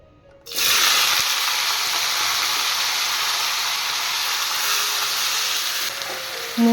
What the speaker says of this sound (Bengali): তেল গরম হয়ে গেছে এবার আমি সবজিগুলো ছেড়ে দেবো